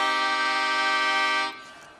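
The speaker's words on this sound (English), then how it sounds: "whereas a minor chord, which sounds like this," A reedy melodica holds a sustained minor chord loudly, then cuts off, leaving a faint quiet tail.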